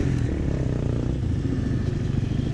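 A two-stroke dirt bike on an off-road trail ride, its engine loud and close, revving continuously with a raspy, clattering drone for the whole stretch.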